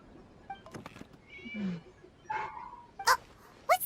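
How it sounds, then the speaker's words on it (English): A cat meows in Genshin Impact, giving a few short, faint cries scattered over quiet background game sound, with the last two calls sharper and more distinct. "It was just a cat."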